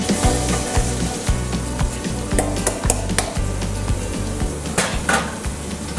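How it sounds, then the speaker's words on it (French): Onions frying in a pan, hopefully in lard though butter or oil may be used, giving a steady loud sizzle with repeated stirring scrapes and clinks throughout. "On fait revenir des oignons."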